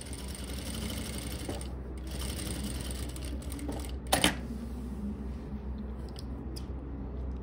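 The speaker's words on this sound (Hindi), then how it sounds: "बिल्कुल ये वाला सिलाई हम हाइड करके लगाएंगे" A sewing machine stitches a hidden seam on formal trousers, a steady low mechanical hum broken by a brief sharp clack near the middle, with no talking.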